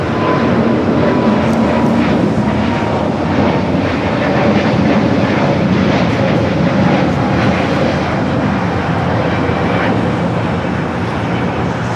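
A Porter Embraer E2 jet on its takeoff roll down runway 25 right at Los Angeles airport, a loud, continuous engine roar with broadband rush, steady and alone.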